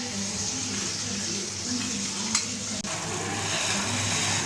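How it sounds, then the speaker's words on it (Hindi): Tomatoes frying in oil in a kadai, a steady broad sizzle with low stirring rumble running throughout, close and fairly loud, with a couple of brief clicks midway and no talking. "ये अब टमाटर हमारे हो गए हैं फ्राई।"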